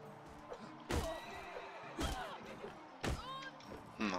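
Horse whinnies in the Mount & Blade Warband video game, several loud neighs at roughly one-second intervals with thuds, heard over in-game noise.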